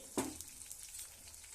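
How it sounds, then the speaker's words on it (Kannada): Brinjal fries in a pan with a quiet, close sizzle after a short sharp clatter at the start. "ಫಸ್ಟ್ ಇದು ಫ್ರೈ ಆಗ್ತಿದೆ"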